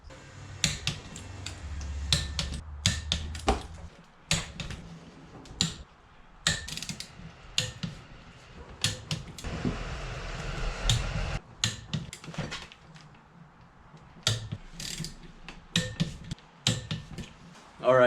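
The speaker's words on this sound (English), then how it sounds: "next we're going to take these and tighten them to 13 foot-pounds" Torque wrench tightening bolts to 13 foot-pounds during cylinder head installation on a rebuilt Subaru engine, sharp close clicks scattered throughout with brief ratcheting and quiet workshop shuffling between them.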